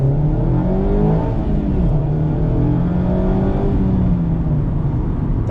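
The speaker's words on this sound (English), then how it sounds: "That little Skyactiv engine is certainly a rev-happy little sucker, especially when it's connected to a manual." Manual-transmission 2023 Mazda MX-5 RF with its Skyactiv engine revs hard, a loud close-up whirring engine note that climbs and falls through the gears in smooth sweeping pitch changes, heard alone without talk.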